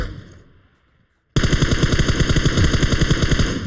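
Automatic gunfire rings out in the PUBG Mobile video game on the Sanhok map, a loud, close, rapid burst of evenly spaced shots that follows a fading echo and a brief silence.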